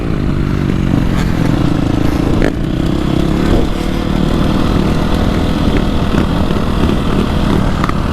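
A 2025 KTM 350SXF dirt bike with WP cone valve fork inserts being ridden, its engine loud and close, droning steadily throughout with rising and falling revs.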